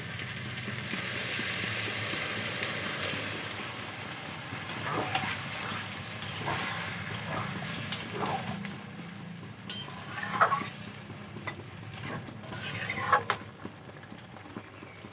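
Figs frying in a pan as a little water is added, giving a steady hiss and sizzle with stirring scrapes and clinks throughout, moderately close and without talk.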